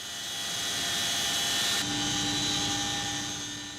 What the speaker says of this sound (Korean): 고공강화 대원들을 태운 헬기들이 서서히 하늘로 날아오르기 시작한다.